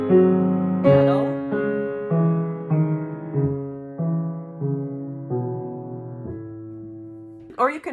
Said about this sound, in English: you can pedal once per group, which would sound like this